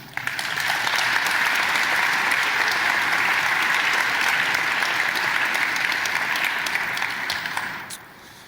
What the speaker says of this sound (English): give your parents and the teachers and those folks a round of applause